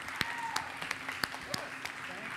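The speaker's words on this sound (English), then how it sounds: "Huge round of applause for Lewis Olson." Scattered applause for guest artist Lewis Olson during a glassblowing demonstration, fairly faint with a few sharp, distinct claps standing out over a roomy background, with voices faintly mixed in.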